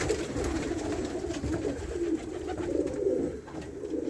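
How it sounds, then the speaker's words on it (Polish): Over 60 pigeons coo in low, throaty rolling calls, overlapping softly inside a loft with steady background murmur. "Tu jest ponad 60 gołąb"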